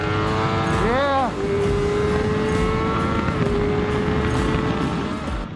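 Kawasaki ZX-6R sport bike ridden hard on a circuit track, a loud sustained engine note near the mic with a sharp rev rise and fall early on, then a steady high drone with wind noise, no talk.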